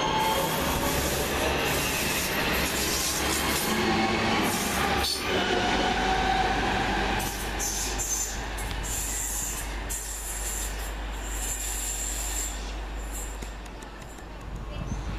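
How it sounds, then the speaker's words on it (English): A delayed London Midland Cross City train from Redditch to Lichfield Trent Valley pulls out of Chester Road station, a loud steady rumble of wheels and rail noise with a brief squeal, fading slightly toward the end. "Now leaving the delayed 11:39 London Midland Cross City service from Redditch to Lichfield Trent Valley."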